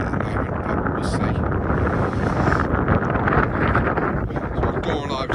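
Strong wind buffets the microphone on open moorland at Dartmoor, a loud continuous rumbling roar with gusty swells throughout.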